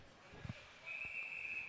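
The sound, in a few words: referee whistle at high school ice hockey game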